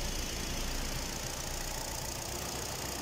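A car engine idles steadily just after starting following a battery replacement, giving a dense, even rumble throughout with no talk.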